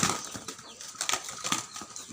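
Two hens scuffle in a fight, wings beating in quick, rough flurries of flapping and rustling close at hand.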